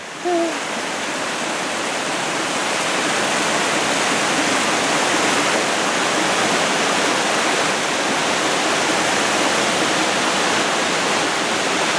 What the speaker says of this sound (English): There's a waterfall there where you turn. There's a waterfall.